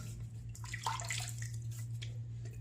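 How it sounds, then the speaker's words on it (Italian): Water splashes and trickles as a man wets his face at a sink before a wet shave with a Merkur Futur razor, close and steady across the clip with a low background hum and no talking. "mi bagno appena il viso"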